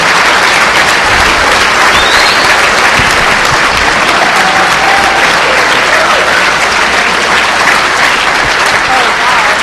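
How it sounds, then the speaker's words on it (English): Sustained, loud applause from a large audience at the DEF CON 12 hacking conference awards, a dense wash of clapping lasting throughout with faint crowd noise and voices mixed underneath. "Give these guys a round of applause."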